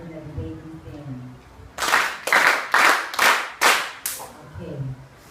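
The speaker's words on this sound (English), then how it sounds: "Let's give 5 claps for those who are in the debating team." A classroom of students claps five times in unison, each sharp burst of clapping loud and evenly spaced, with a teacher's voice heard briefly before and after.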